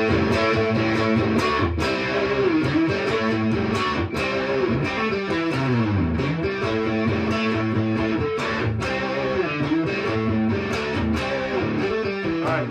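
A distorted electric guitar riff from a 1971 song plays over a full band groove with drums, repeating a punchy rhythmic pattern throughout, loud and steady with no talking.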